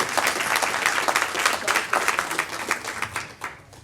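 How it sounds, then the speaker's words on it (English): An audience claps for a panel of speakers, dense steady applause throughout that tapers slightly toward the end. "please give our panelists a round of applause for taking the time out today to share their expertise"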